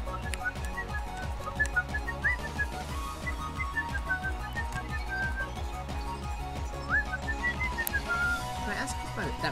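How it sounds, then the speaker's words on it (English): A person whistles a tune in short wavering phrases while talking and background game sounds continue underneath, the whistling faint against the voice. "I tend to whistle the songs because I don't know the words and humming"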